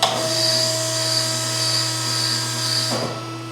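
A tube bender bending a rail on a wheeled table: a steady, loud motorized whine with a sustained tonal hum that shifts pitch near the end, without talk.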